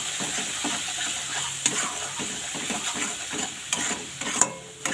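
Spice paste stir-fried in mustard oil for a pangas fish curry, a continuous sizzle under repeated scraping strokes of a spatula and a few sharp clicks, close and fairly loud, with no voices.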